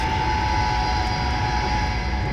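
Ilyushin IL-62 jet engines roaring in reverse thrust on the outboard engines during a landing in Flight Simulator X, a loud, steady, continuous rumble with a whining tone throughout.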